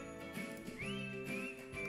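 At a holiday party, someone whistles a short, faint melodic phrase, with one sliding note held briefly amid quiet room sounds.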